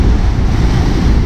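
Heavy sea waves surge and crash against the shore near a mall and marina, a loud, continuous roaring wash with strong wind buffeting the microphone throughout.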